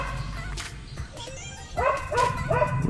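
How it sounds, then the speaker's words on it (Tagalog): Dog at a home workshop barking and yipping near and fairly loud in several short bursts against a steady background hum; a person talks faintly underneath. "Maingay ang ating aso."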